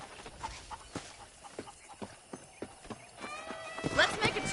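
Horse hooves clip-clop in a steady walking rhythm in the Red Dead Redemption video game, with a few louder steps and a brief whinny-like sound near the end, while someone speaks over it.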